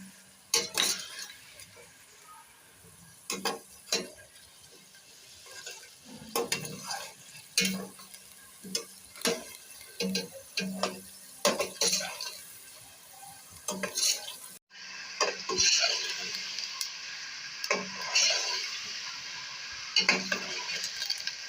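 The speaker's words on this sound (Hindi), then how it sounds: "हम अदरक लहसुन ऐड करके भी उसको तकरीबन 1 से 2 मिनट और फ्राई करेंगे" Chicken with ginger and garlic frying in a pan: soft steady sizzling throughout, broken by repeated clinks and scrapes of a spoon stirring against the pan, with the sizzle growing louder and brighter near the end.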